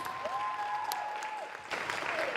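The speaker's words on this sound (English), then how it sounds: "Round of applause." An audience at a Women's Equality Day event run by a mayor's office for women claps steadily, moderately loud, filling the room with continuous applause over a faint background tone.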